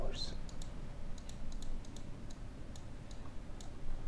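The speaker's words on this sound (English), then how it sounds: "you get to hear all the keyboard sounds" Quiet computer keyboard typing and mouse clicks come as light, irregular ticks over soft background noise during the city-building game Islanders, with a voice talking faintly beneath.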